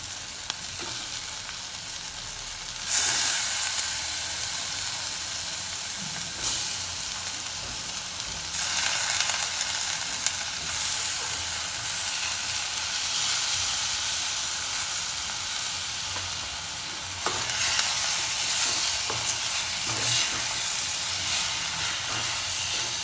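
Banana stem pieces soaked in buttermilk sizzle and steam in a hot pan for a plantain shoot sambar, a steady broadband frying hiss with a few louder surges and scraping stirs, no talking.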